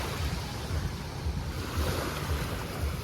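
Sea waves roll onto a beach at Alanya, Turkey, with a steady low surf wash and soft rhythmic swells, mixed with wind buffeting the microphone and no voices.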